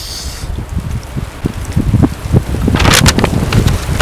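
Strong outdoor wind gusting against the microphone with a rough, rumbling roar that swells and rises in the last second, loud and close with no clear talk.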